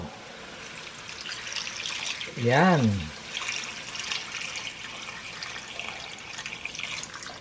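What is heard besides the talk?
water poured into cooking pot for chicken tinola broth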